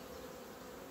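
A dense, steady buzzing of many black honeybees close by in an open hive, a continuous droning hum without pause.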